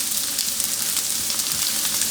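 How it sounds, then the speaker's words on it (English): Spring onion sizzling in a preheated pan, a loud, steady, close frying hiss with faint crackles throughout, no voices. "Throwing in some spring onion."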